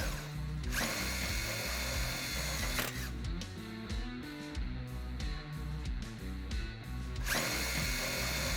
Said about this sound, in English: These screws will need a bit of force to punch through the Jeep body, but once through they should tighten right up.